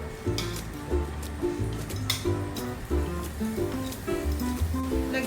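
Vegetables stir-frying in a little oil in a hot pan give a steady close sizzle, with a spatula scraping and clinking against the metal in an irregular rhythm throughout.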